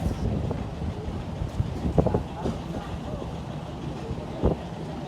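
Light wind at a ferry port at Merak harbour buffets the microphone in a low rumbling wash, with faint clanks and thumps of loading vehicles in the background; no clear speech.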